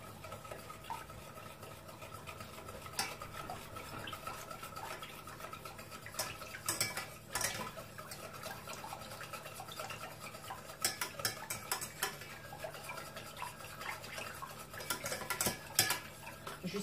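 A spoon stirs cornstarch and sugar into cold liquid in a bowl, giving a soft, continuous scraping and swishing broken by scattered clinks against the side, quiet and close with no talking.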